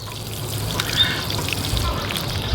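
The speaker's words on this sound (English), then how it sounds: "you're just going to take your watering can and simply water it in." Water trickling from a watering can onto a freshly transplanted King Arthur sweet bell pepper in a garden bed, a steady soft pour lasting throughout at moderate level.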